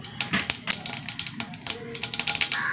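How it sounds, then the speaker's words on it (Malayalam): Mustard seeds splutter in hot oil, giving rapid irregular crackles and pops, close and fairly quiet, with a steady hiss underneath. "എണ്ണ ചൂടായി കുറച്ച് കടുക് ഇട്ട് കൊടുക്കാം കടുക് കൊട്ടട്ടെ"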